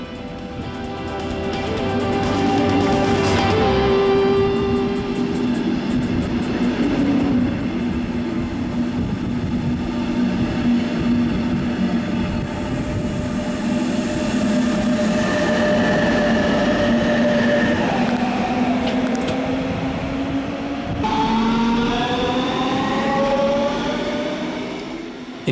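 A double-deck regional express train at Stuttgart main station rumbles steadily for the whole stretch, loud and close, with rolling wheel noise, squeals and rising tonal whines from the carriages.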